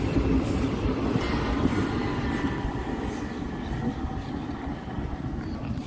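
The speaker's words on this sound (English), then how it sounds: "just wait this train to pass" A train rolls past on a rail line running right beside a beach in Barcelona, a steady loud rumble of wheels and carriages that fills the whole clip close by with no talking.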